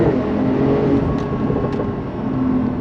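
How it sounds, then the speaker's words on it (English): A 2021 Porsche 911 Turbo S Cabriolet in sport mode accelerates hard, its engine giving a loud, steady, close roar that holds without a break and no talking over it. "I have it in sport mode right now. I'm going to lay into it a little bit."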